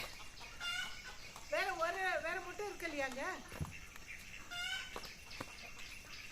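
A hen cackles after laying an egg, sending out repeated rising, squawking calls in short bursts, fairly close, while people talk nearby.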